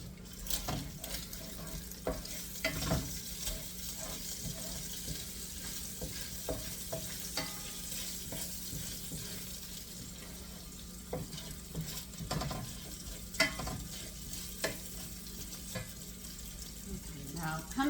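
Bacon fries in a pan with a steady, close sizzle, broken by scattered clinks and scrapes of a utensil, and no voices come through.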